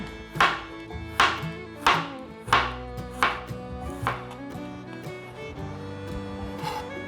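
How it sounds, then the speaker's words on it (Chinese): A knife slices fresh ginger on a cutting board in a run of sharp, evenly spaced chops that fade toward the end, close and clear with no talk. "把姜切片"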